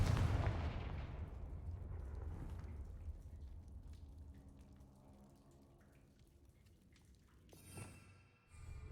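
Confringo fire spell cast in Hogwarts Legacy, a loud booming blast that rumbles and decays over several seconds, followed by a faint crackle and a second smaller burst near the end, with no talking.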